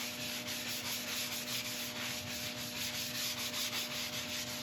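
Steady, quiet rubbing and sanding as abrasive paste is buffed into a metallic epoxy inlay in wood, a continuous scratchy hiss with a faint motor hum beneath it.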